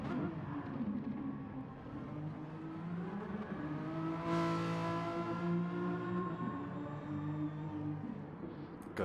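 A pack of Renault Megane race cars at the start of a race at Laguna Seca in a racing game, engines droning and revving together in a steady, rising roar.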